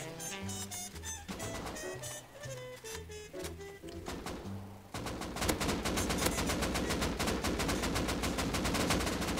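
Fully automatic rifle fire in the video game Rust: rapid bursts of loud, sharp gunshots, first choppy and spaced, then a dense sustained stream of shots hammering close by, with no voices.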